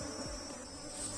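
Honeybee colony buzzing steadily inside an opened hive during a split inspection, a close, continuous dense drone with a few individual bees whining past, no voices.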